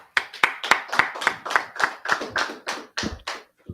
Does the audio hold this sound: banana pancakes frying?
no